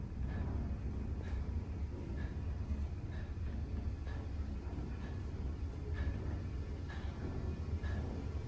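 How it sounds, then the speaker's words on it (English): A ThyssenDover traction elevator motor at a history museum hums with a steady low rumble inside the cab, with faint periodic clicks repeating about once a second. "Listen to that motor."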